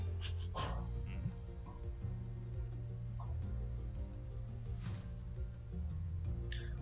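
A dog in the video game New Pokémon Snap gives faint, quiet yips and short barks scattered over several seconds against a low steady background hum.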